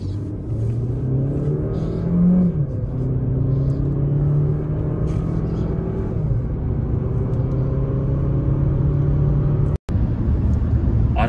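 A Fiat Egea Cross SW with a 1.5 T4 hybrid engine drives along with a steady, loud engine drone and road rumble, a rising whine near the start, and a brief cut near the end.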